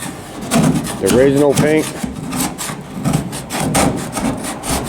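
Sandpaper is worked by hand over the body of a 1996 Chevy 1500 pickup to strip its old original paint. The rasping strokes are close, loud and repeated in a quick back-and-forth rhythm, with someone speaking briefly over them.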